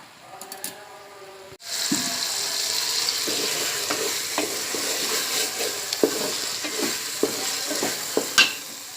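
Spice masala frying in a pan for prawn pulao, with a steady sizzle under repeated scraping stirs of a spoon against the pan after a brief quieter opening, close and moderately loud with no talk.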